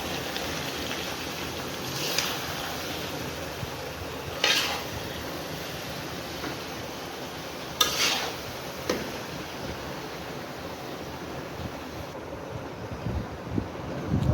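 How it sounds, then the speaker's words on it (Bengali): A raw and ripe mango pickle mixture is stirred in a metal pot or bowl. The stirring gives off a few scattered, sharp scraping clinks against a steady, windy background hiss, with no talking. "তারপর এটাকে ভালো করে মিশিয়ে নেব।"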